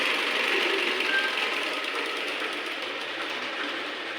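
A sewing machine stitches cloth in a tailoring class, running as a steady, continuous whirring buzz at close range with no pauses or voices.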